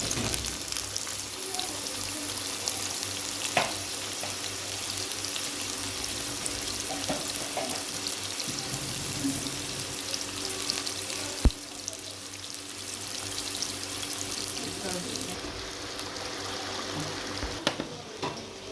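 Washed, dried potatoes frying in oil for aloo bhujia, a steady close sizzle running throughout with occasional sharp clinks and knocks, no talking.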